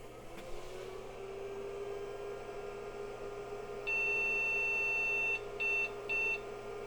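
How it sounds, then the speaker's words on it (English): An IBM PC 5150 gives its power-on beeps over a steady fan and electrical hum: one long, clear tone, followed by two short beeps in quick succession. "We get the beeps."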